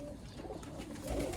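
A female pigeon of a prized flying breed coos softly and low, a faint murmur against background noise, with a slightly stronger burst near the end.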